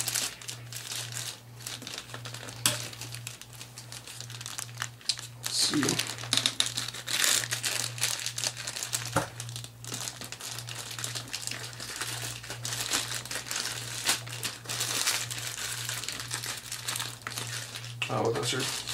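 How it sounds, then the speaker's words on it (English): Small plastic packaging pieces being pulled and crinkled off a Hot Toys Avengers Hulk 1/6 scale figure, a close, irregular run of crackles and snaps over a steady low hum, with a person talking throughout. "You just gotta kind of pull these little bits of plastic off,"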